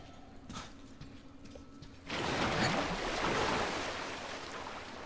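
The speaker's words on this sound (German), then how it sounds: "wir können hier im Wasser so laufen, wir ertrinken hier nicht" Footsteps slosh through water in Metro Exodus, a steady splashing wash that swells loudly partway through after quieter ambient sound, continuing without talk.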